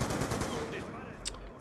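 Rapid bursts of gunfire from the Black Ops 2 video game, a quick rattling volley that fades under a low murmur of game sound, with a brief sharper crack near the end.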